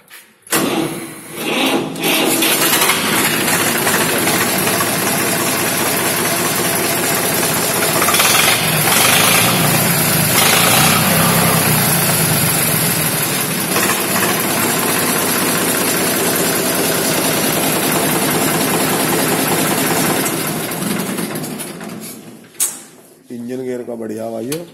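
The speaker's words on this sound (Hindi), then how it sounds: "इंजन गियर का बढ़िया ट्रैक्टर, साइलेंसर बहुत अलग तरह का लगा रखा" An Eicher 485 tractor with an unusual aftermarket silencer idles close by, a steady loud mechanical engine drone running nearly the whole time with a few brief changes in level, then dropping away near the end.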